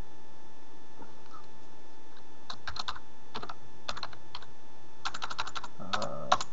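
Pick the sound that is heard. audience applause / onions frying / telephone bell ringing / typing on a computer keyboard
typing on a computer keyboard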